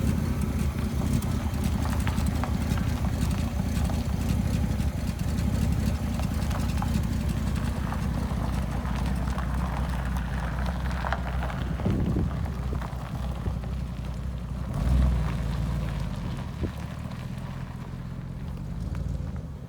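A barn-find 1967 Chevy El Camino engine runs as the car drives out under its own power: a steady, close low rumble throughout, with a brief swell near the end.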